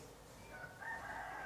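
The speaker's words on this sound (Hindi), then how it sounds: "अगर आपको पीछे थोड़ा सा वो मुर्गे की आवाज़ आ रही है तो उसे इग्नोर मारना" A rooster crows faintly in the background, a steady distant call under low room noise.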